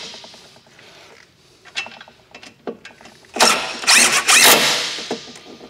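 Ratcheting wrench driving bolts through spacers into the tailgate of a Jeep Wrangler JL while mounting a tailgate table, with scattered clicks and taps building into a louder burst of rapid ratchet clatter near the end.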